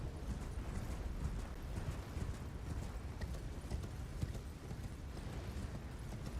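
Horse hooves gallop at a steady, continuous pace in a no-hit randomizer video game run, a dense stream of clip-clop beats under a constant background rumble, with no voices.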